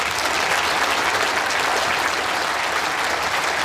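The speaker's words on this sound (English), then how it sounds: "can we have a huge round of applause for our presentation party" Audience at the World Indoor Bowls Championships presentation gives a full, even round of applause, a continuous dense clatter of many hands that holds steady throughout.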